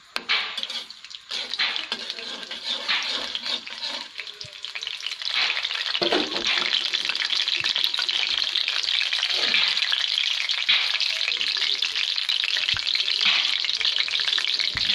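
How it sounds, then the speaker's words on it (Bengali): Red chili pieces fry in hot oil with a steady, loud sizzle that swells and holds for the whole stretch, with occasional stirring clatter and no voices. "তেলের মধ্যে দিয়েছি লাল চিলি, মানে লাল লঙ্কা, আমরা যেটা সহজ ভাষায় বুঝতে পারি লাল মরিচের টুকরো দিয়েছি।"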